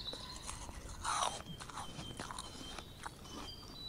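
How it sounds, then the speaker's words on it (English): Loud apple crunching from a mantis in the video game Jazzpunk, a few sharp, close crunches with one heavy bite standing out, then softer chewing. "really loud human apple crunch ASMR mantis."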